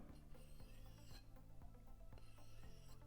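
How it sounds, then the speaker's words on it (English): Knife blade drawn across a stone on a Katocut Nowi sharpening system, an Austrian high-end sharpener, giving steady close rasping strokes with rhythmic scraping passes and no talk. "I love the sound of the sharpening process."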